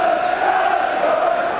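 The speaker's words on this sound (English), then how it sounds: "It's a good crowd, one of their best of the season." Football crowd at the Valley for Charlton Athletic against Sunderland in 1995/96: a steady, distant mass of voices and murmuring from a big stadium audience, continuous and even, with no single call standing out.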